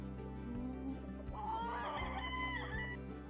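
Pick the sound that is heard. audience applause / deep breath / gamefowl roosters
gamefowl roosters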